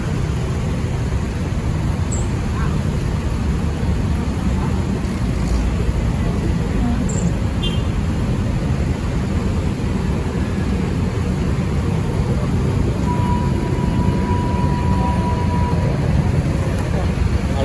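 A Hino RM280 bus engine runs as a continuous loud low rumble with steady road and cabin noise, holding level throughout with no pauses.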